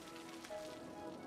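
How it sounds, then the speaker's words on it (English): Rain falling in a city-building game: a faint, steady patter of drops on surfaces, continuous and fairly soft, with no speech. "I wish it had stopped raining."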